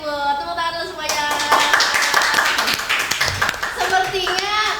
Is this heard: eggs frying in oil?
no